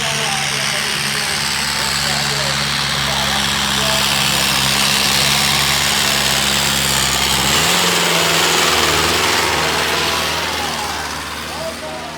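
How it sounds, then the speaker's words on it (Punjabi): A heavy tractor engine runs steadily and loud throughout at a tractor trolley-pulling contest at a village fair, with a low droning rumble that shifts pitch briefly partway through before settling again. "ਇਹ ਨਾਮੀ ਟਰੈਕਟਰ ਆ ਨਾਮੀ"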